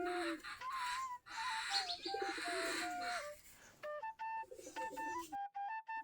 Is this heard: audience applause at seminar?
no